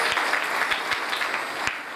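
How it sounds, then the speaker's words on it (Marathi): Audience at a Bhagwat katha applauding, a steady wash of many hands clapping with a few sharper claps standing out, continuous throughout. "एकदा जोरदार त्यांच्यासाठी टाळ्या वाजवायच्या"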